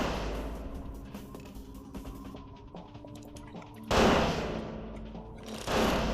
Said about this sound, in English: you don't want to get into a gunfight with this guy